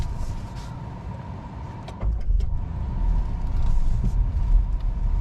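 A 2021 Maruti Suzuki Swift pulls away and is driven, heard from inside the cabin as a low engine and road rumble that rises steadily after a clunk, with faint interior rattles and no talking.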